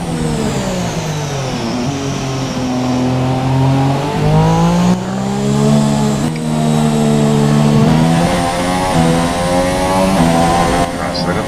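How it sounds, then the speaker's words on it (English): A Formula One race car engine in the F1 2017 video game at Melbourne, loud high-revving whine that rises and falls through gear changes, close and continuous. "I normally try and listen for the sounds of the engine."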